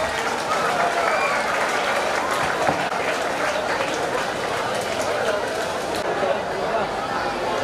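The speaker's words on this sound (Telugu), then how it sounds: "ఒకసారి అందరూ క్లాప్స్." An audience at a memorial gathering in Ongole claps steadily and densely throughout, with crowd murmur underneath.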